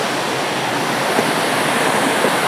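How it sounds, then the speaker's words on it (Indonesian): Waterfall deep in the Kalimantan jungle, a steady, close, broadband roar of falling water that stays loud and even throughout, with no voices. "Dan akhirnya kita sampai di air terjun pedalaman hutan Kalimantan."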